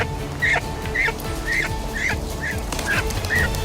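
Birds released by hand after being banded by Fish and Game give a string of about seven short, bright calls, spaced roughly every half second, close and fairly loud over an outdoor background, with no talking.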